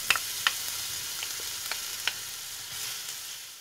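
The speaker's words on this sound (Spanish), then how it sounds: "En el mismo aceite vamos a agregar los ajos." Garlic frying in hot oil after chicken pieces were browned in the same pan, a steady close sizzle with a few sharp crackles and pops near the start.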